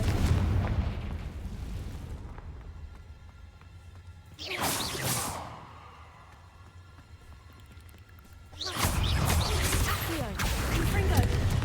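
A Confringo fire spell explodes in the video game Hogwarts Legacy, a whooshing burst with a roaring tail, followed by a second, longer rushing blast over a low ambient rumble.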